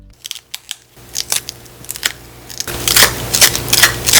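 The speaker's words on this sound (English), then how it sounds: "Now, we got to get the screen out, though. To do that, the crunch method." A Game Boy screen is crunched and cracked out of its plastic frame in sharp, irregular snaps and crackles, close and loud, growing denser toward the end.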